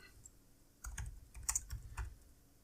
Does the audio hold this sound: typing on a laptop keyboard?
yes